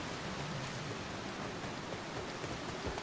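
Steady rain ambience in Final Fantasy XIV, a soft even hiss of falling rain continuing without pause, fairly quiet and without voices.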